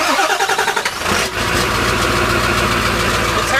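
A Ford Super Duty truck with a 4-inch straight pipe and no muffler cold-starts: a brief crank, then the engine catches and settles into a loud, rough, steady idle close by.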